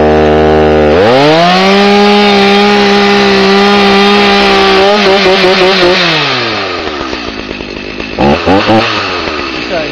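A chainsaw idles, then roars up to a high sustained whine with the chain spinning, holds loud and steady, winds down, and gives brief revs near the end.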